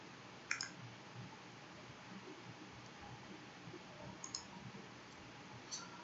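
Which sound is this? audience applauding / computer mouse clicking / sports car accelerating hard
computer mouse clicking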